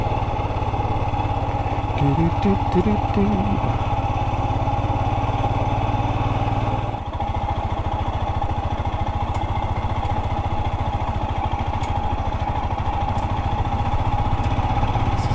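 A motorcycle engine chugs steadily at low revs in second gear on a forest trail, a continuous even rumble with light mechanical clatter, close by and unbroken throughout.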